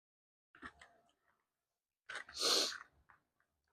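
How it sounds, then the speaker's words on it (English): A brief breathy lead-in is followed by one loud, sharp human sneeze, close to the microphone in a quiet room, with faint small sounds just after. "I'm about to sneeze."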